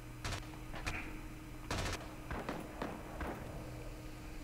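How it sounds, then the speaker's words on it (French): Grenade explosions with water splashes in the World War II shooter Rising Storm on the Betio map, a series of sharp bursts and cracking hits spread across the moment amid battle noise. "pas mal l'explosion avec les éclaboussures de flotte"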